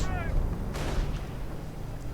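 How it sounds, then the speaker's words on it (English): Artillery fire in a Company of Heroes match: a heavy blast with a rumbling low boom that decays over a couple of seconds, following a brief whistling tone at the start. "More artillery."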